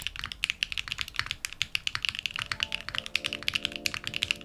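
Rapid mechanical keyboard typing, crisp clacky keystrokes in a dense, steady flurry, close and clear with no talking.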